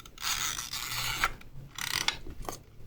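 Film advance lever on a film camera being wound, giving ratcheting mechanical clicks and gear rasps in several close bursts with brief pauses between strokes.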